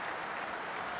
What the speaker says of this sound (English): a slow hand clap for the Germans